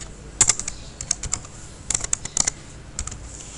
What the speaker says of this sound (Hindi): तो हम यहाँ एक अपना नाम लिख लेते हैं